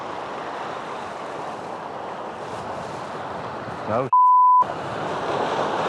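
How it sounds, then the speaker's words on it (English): Ocean surf crashes steadily against coastal rocks for about four seconds, a loud continuous wash with a man exclaiming briefly, then a sharp dropout with a steady electronic beep before the roar of waves resumes. "But these waves, man,"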